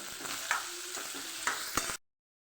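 Spices and salt being stirred in hot oil: a short sizzle with a few scraping stirs, then it cuts to silence.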